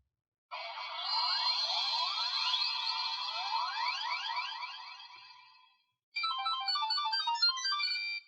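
A Digimon Digivice toy game gives loud, shrill electronic beeping: a long warbling run of rising chirps, a brief pause, then a second quick melodic burst of beeps.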